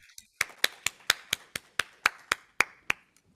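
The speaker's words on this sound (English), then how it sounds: "Let's finish by giving the speakers a huge round of applause." Roughly a dozen sharp, evenly spaced claps from an audience thanking the speakers at the close of a talks event, fairly close and clear, with no voices over them.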